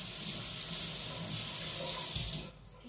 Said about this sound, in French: Je vais rincer mon couteau.